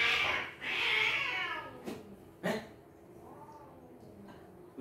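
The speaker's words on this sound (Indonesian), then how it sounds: "Kucing mana tuh?" A cat meows indoors, one drawn-out cry near the start followed by a few short, faint mews, over a quiet background.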